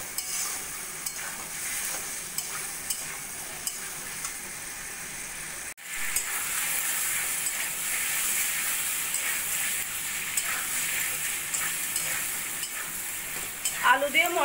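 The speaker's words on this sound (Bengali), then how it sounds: "ছোলাটাও এই মশলার সঙ্গে ভালো করে কষিয়ে নেব।" Soaked chickpeas being stirred and fried in a spice masala in a pan, a steady sizzle and hiss running throughout with scraping stirs, briefly dipping near the middle before picking up again, with no talking.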